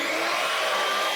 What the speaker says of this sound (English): Then we're going to take a hand mixer